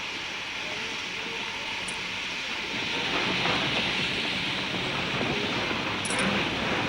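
A train rumbling past with a continuous hiss and low clatter that grows slightly louder midway, steady with no voices.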